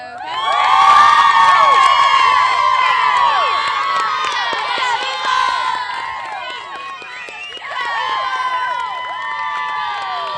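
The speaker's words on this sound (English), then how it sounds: "How about one more big rousing cheer for the Beaufort Eagles?" A stadium crowd at a high school football game cheers loudly for the Beaufort Eagles, with overlapping shouts, whoops and high-pitched voices of girls and children swelling, dipping briefly, then rising again.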